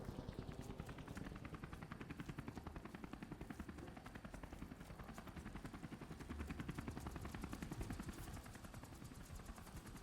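Helicopter in Call of Duty: Modern Warfare Remastered, a loud continuous rotor thump with rapid rhythmic chopping that runs throughout, mixed with bursts like gunfire and no talking.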